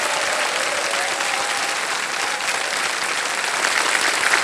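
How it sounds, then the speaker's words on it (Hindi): A studio audience on the KBC game show applauds a contestant, thick continuous clapping from many hands that stays loud and even throughout with no voices on top. "तालियां बज जाए इनके लिए।"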